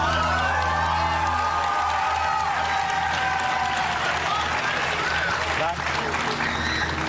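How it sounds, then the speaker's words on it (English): A game show studio audience cheering and applauding loudly, with whoops and shouts, a full continuous roar that thins slightly toward the end. "Gonna ask the audience starts cheering in advance and just stops abruptly if I get it wrong"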